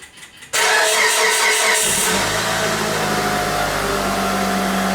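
A Mitsubishi Outlander engine cranks briefly and catches, then settles into a steady, loud idle close by with no talking.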